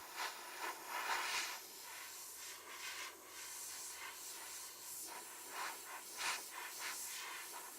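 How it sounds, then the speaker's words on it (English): An airbrush lays short, fine dagger strokes of dark paint onto the vents of a custom-painted helmet, heard as faint, soft bursts of airy hiss in a quiet room. "these are just very small little dagger strokes I'm doing with the airbrush"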